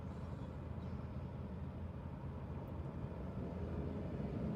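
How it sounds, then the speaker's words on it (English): Road traffic passing outside an open car window, a steady low rumble and hiss of passing vehicles, fairly faint and continuous with no talking. "if that's too loud, we got traffic noise and stuff"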